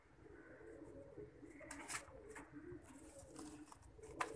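Pigeons cooing inside a shed, soft low throaty coos and a few brighter calls over a faint, steady background, fairly quiet and nearby.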